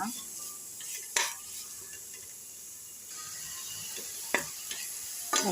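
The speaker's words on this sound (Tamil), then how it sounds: "அப்புறம் 4 பச்சை மிளகாய் போட்டு வதக்கிட்டு இஞ்சி பூண்டு பேஸ்ட்டு, வெங்காயம் போட்டு இப்போ வதக்கிட்டு இருக்கேன்." Green chilies, onion and ginger garlic paste sauté in hot oil for biryani, a soft steady sizzle broken by a few sharp spoon scrapes and stirs against the pan.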